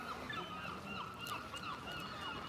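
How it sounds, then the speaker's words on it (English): Seagulls call repeatedly at Portobello Beach, Edinburgh, their squawking cries faint and somewhat distant over a steady outdoor background hum. "The sound of the seagulls."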